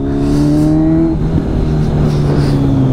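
A lorry passes on a snowy mountain road at Sela Pass in Arunachal, its loud engine hum dropping in pitch as it goes by, then a steady road and wind roar.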